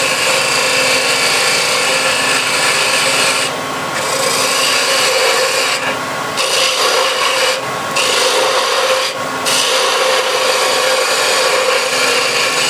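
A spindle gouge cuts wood on a lathe with a continuous loud scraping rasp, broken by a few brief pauses as the tool lifts off and returns.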